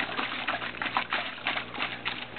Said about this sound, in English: you can submerge your hide a little bit, get it into the water, but then you're going to be a human washing machine